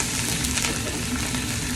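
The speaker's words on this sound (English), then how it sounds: "so a little bit of ginger paste" Ginger paste and curry leaves frying in a pan, a dense, even, close sizzle with no pauses or talking.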